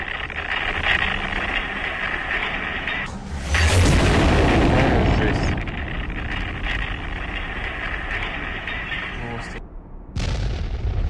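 A heavy blast from a Russian bomb or missile strike in Ukraine booms out partway through, set against a busy, noisy background. A narrator's voice runs under and around the rumble.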